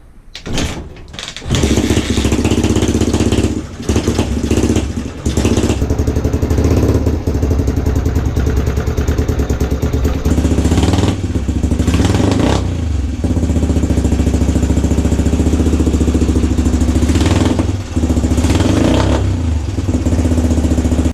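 A Suzuki DR125 motorcycle engine running with a newly fitted exhaust, starting with a few sputters, then idling loud and close with a steady rough single-cylinder drone and occasional revs.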